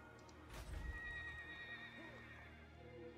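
A war horse in Total War: Warhammer lets out a quiet neigh after a soft thump, with light hoof clip-clops and a low in-game ambience underneath.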